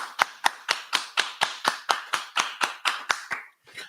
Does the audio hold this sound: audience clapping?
yes